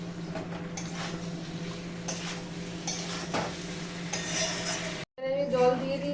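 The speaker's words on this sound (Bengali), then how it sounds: "চিনি দিয়ে এবারে ভালো করে নাড়বো।" Stirring sugar into a cooking pot, with a soft steady sizzle, spoon scrapes and light metallic clinks, close by, broken by a brief dropout near the end before the sizzle resumes.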